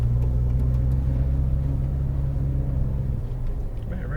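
A Porsche 911 GT3 idles and creeps forward out of a pit lane, its steady low engine rumble close and continuous with no talk over it.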